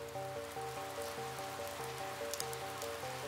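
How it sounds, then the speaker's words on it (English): Steady rain falls in Amsterdam, a continuous close hiss of drops spread under a repeating tonal music bed for the whole stretch, with no talking. "Rain."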